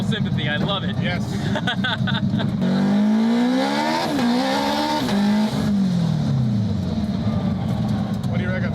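A 1600 hp Nissan Skyline GT-R with a built 3.6-litre RB engine revving hard and climbing through gears, tires squealing during aggressive driving in Australia; loud and close, with excited voices talking over it.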